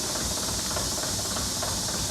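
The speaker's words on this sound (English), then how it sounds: "look at this electric motor with chains" An electric motor drives chains on a QT4-25 mechanical concrete block making machine, giving a steady, loud hiss of machinery with a faint rhythmic mechanical rattle underneath.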